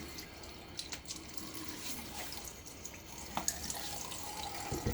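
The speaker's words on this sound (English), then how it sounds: "Let me get my face wet." Tap water runs steadily into a sink while a face is wetted before shaving, a continuous close hiss with small splashes, no talking.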